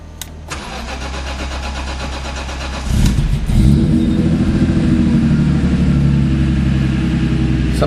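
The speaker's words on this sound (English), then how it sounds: "So that is cold start when it's super cold. Took a few more cranks than normal." A car engine cold-starting in very cold weather, cranking several times longer than usual before catching at about three seconds and settling into a steady, loud idle close by.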